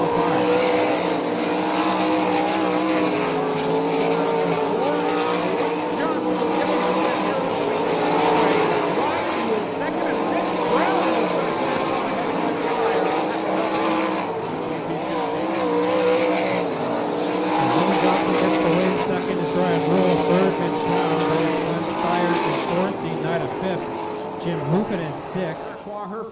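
360 sprint cars race around a dirt oval, engines roaring loud and steady through the whole stretch with shifting pitch as they pass, while an announcer talks over the noise.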